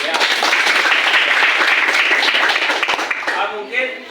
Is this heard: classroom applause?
yes